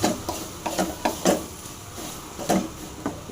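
Chilli mixture with coriander and curry leaves being stirred in a pan, giving a series of close scraping and clacking strokes spaced irregularly, moderately loud with brief pauses between.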